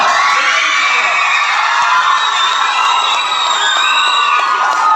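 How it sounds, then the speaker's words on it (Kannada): A school crowd at a Prathibha Karanji talent competition at Little Flower School, Darbe, Puttur, cheers and claps loudly for a winner, a dense, continuous roar of children shouting and whooping. "ಬರಲಿ ಚಪ್ಪಾಳೆ"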